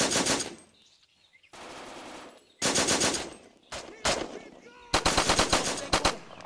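Machine gun fire in a WWII video game battle on Omaha Beach, loud sustained bursts of rapid automatic shots broken by short pauses, with brief voices between bursts.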